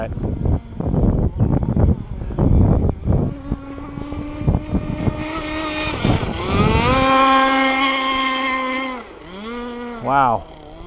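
A remote-controlled ZippKits Super Sport model boat on its maiden run, engine not yet tuned, heads into the wind, its small engine buzzing and revving up to a high, steady whine before dropping away, with someone talking near the start.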